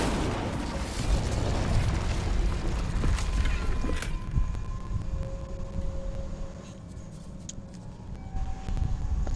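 A fiery blast from the Incendio spell in Hogwarts Legacy, a loud booming burst at the start that roars on for about four seconds before settling into a quieter rumble with faint tonal game sounds.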